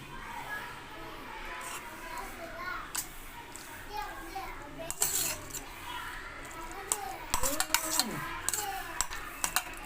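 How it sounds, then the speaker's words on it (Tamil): Chopped arai keerai spinach is stirred into rice in a pan, producing soft scrapes and scattered metallic clinks, with children talking and playing nearby. "இப்போ நான் அடுத்து கீரையை போட்டு கிளறி"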